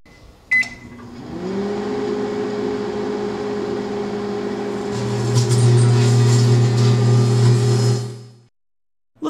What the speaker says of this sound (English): we're going to show you what happens when you microwave a grape without the glass